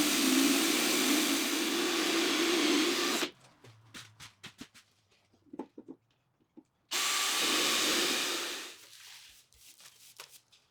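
Loud power drill bores holes through the edge of a wooden workbench for threaded rods, two sustained bursts of grinding drilling separated by a quieter stretch of clicks, taps and handling noise.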